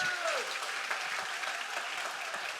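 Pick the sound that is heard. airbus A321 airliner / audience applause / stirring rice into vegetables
audience applause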